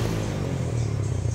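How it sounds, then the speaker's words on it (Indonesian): Yamaha Jupiter Z motorcycle idling with a faint sputter from the exhaust on closing the throttle, a steady low rumble heard up close with no talking. "Kalaupun enggak nembak, ini ada sisa ya, dep dep dep dep dep gitu ya."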